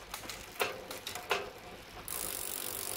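A Shimano rear derailleur on a Merida Crossway 90 touring bicycle shifting gears, two sharp clicks followed by a steady close ratcheting whir of the freewheel, with no voices.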